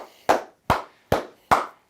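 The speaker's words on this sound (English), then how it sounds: "Let's clap it up to our winners." Four sharp, evenly spaced claps ring out alone at a steady pace, each a crisp smack with a short decay, from someone applauding winners after the Texas Longhorns upset the Texas A&M Aggies.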